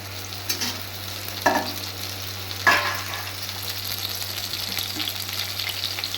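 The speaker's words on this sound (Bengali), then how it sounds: "পটলগুলো আগে দিয়ে দিচ্ছি, পটলটা আগে ভেজে নিতে হবে।" Pointed gourd (potol) frying in hot oil, a steady close sizzle broken by a few sharp clinks and scrapes of a spatula stirring the pan.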